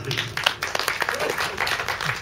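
A short burst of audience clapping greets a singer at a live music event, brisk and fairly close, with a voice briefly heard over it.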